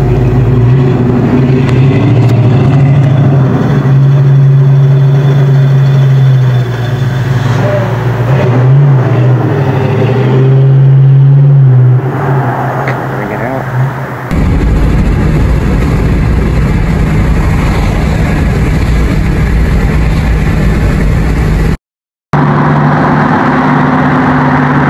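A Foxbody 5.0 Mustang engine idles with a deep, steady rumble, revs and pulls away loudly, then continues as a strong, close engine roar. Captured on a cellphone, with a brief dropout near the end.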